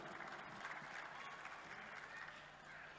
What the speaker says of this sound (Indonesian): Tepuk tangan untuk anak-anak kita semua.